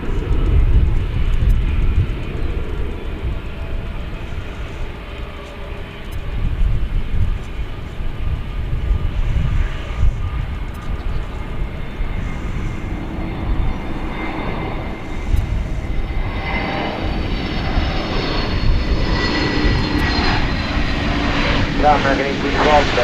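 An airliner coming in to land at DFW Airport gives a steady rumbling jet engine roar that swells in waves, heard beneath ongoing talk and radio chatter.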